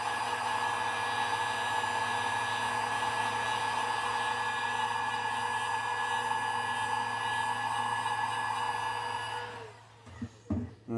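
A hair dryer or heat gun blows continuously to heat-set paint on a thin crankbait lure, a loud steady whirring hum that cuts off near the end, followed by a few faint clunks.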